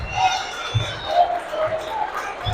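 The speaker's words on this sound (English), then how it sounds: "The crowd getting ready for it." A basketball game crowd waits for the final shot in a regional high school matchup between White County and Lawrence County, a steady murmur of hubbub and scattered calls in an echoing gym.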